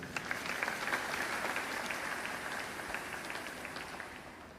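A church congregation claps in praise during a sermon, steady, moderately loud applause filling the room and slowly tapering off toward the end.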